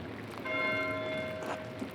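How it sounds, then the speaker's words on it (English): A church bell tolls in a medieval village in the game Pentiment, ringing amid a storm, a sustained metallic tone with bright overtones swelling mid-clip and fading behind faint background noise. "It doesn't sound right, does it? The ringing of the bell, I mean."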